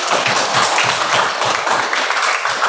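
Classroom applause for classmates, a dense, steady patter of many hands clapping at close range that carries on without a break.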